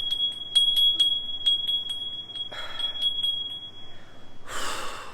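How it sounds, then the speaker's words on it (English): A small bell is rung in a rapid series of bright, ringing strikes that fade out, followed by a couple of close breathy exhales and sniffs. "I'm just going to ring the bell"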